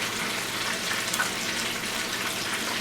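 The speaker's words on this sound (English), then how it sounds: "I just kind of wait till things float when I'm frying" Chicken tenders frying in hot oil give a steady, dense crackling hiss throughout, loud and close with no pauses or talk.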